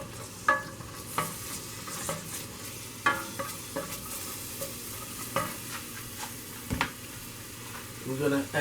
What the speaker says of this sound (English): we're gonna saute these onions real quick